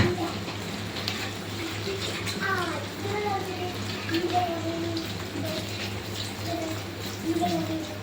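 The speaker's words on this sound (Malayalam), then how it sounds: "തിളച്ച വെള്ളം ഒരു 1/2 ഗ്ലാസ് ഒഴിച്ചു കൊടുത്തിട്ടുണ്ട്." Half a glass of boiling water pours into a soybean meat-style curry in a pot, a steady watery splash and hiss under background voices.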